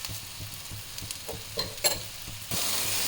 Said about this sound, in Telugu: ఇలా కొంచెం కలర్ వచ్చినంత వరకు ఫ్రై చేసుకోవాలి